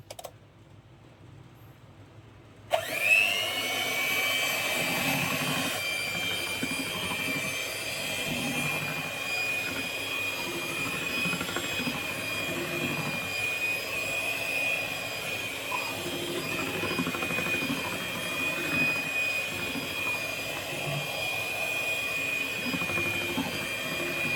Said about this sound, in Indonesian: Kita mixer sebentar